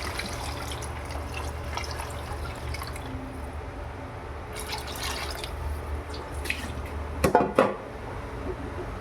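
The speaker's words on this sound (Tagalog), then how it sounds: "Lagyan na natin ng tubig." Water splashes and trickles into a metal pot of clams for halaan soup, with light clinks of cookware and a brief louder clatter near the end.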